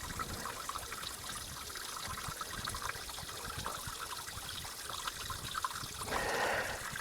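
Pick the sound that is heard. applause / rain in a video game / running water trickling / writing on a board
running water trickling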